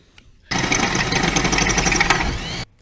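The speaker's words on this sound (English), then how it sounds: "I'm going to drill directly through the center of each one after they're bolted down on the pack" A power drill bores through spacers bolted onto a Ghostbusters proton pack prop, running loud and close in one steady two-second burst before stopping abruptly.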